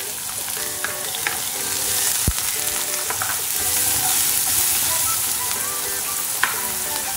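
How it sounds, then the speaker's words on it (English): Finely chopped onion fries in hot oil with spluttering cumin seeds and a pinch of asafoetida, giving a steady close sizzle broken by stirring scrapes and a few sharp clicks, with no talking. "Our jeera have started to splutter. I'm going to add about 1 medium-sized onion finely chopped."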